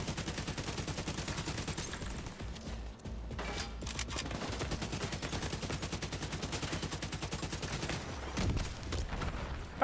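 Sustained automatic gunfire in Division 2 at Coney Island, a steady rapid stream of shots running nearly nonstop for ten seconds, with a few heavier bangs mixed in, close and loud.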